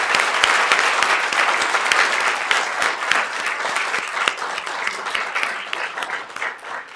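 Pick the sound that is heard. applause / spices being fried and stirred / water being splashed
applause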